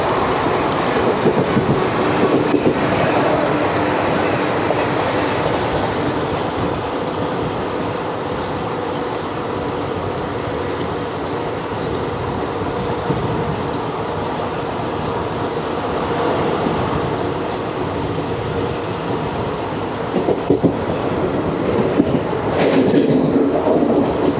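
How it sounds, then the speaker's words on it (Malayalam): The Jodhpur Dadar Express passing on the rails, a loud, continuous rumble and clatter of railway cars that goes on steadily for over twenty seconds. "ജോധ്പൂർ ദാദർ എക്സ്പ്രസ് ആണ് തോന്നുന്നത്."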